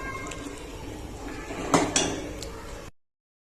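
Brinjal gets stirred into gravy in a pan, a short stretch of scraping and clattering with two sharper knocks of the spoon against the pan partway through and no talking.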